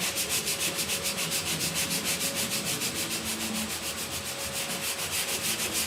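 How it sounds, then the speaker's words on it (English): Sanding block working primer/surfacer on the roof of a 1969 Chevrolet C10 truck, a loud, continuous rhythmic scraping with even back-and-forth strokes, close up and without talk. "I'm not sanding with the block flat"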